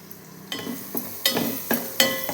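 Spices fry in hot oil in a pan for a South Indian puliyogare, with several distinct stirring scrapes and bursts of sizzle over a steady low crackle, close and fairly quiet.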